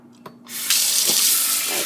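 Tap water runs from a faucet into a jar of sprouting seeds, starting abruptly as a loud, steady close-up rush that continues to the end.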